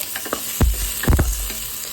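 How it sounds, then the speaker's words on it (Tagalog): Potatoes and carrots sauté in a pan for chicken curry, with a steady sizzle broken by a few louder scraping stirs of a ladle, close and alone without talk. "So sautay muna natin. Medyo palambutin lang natin ng konti."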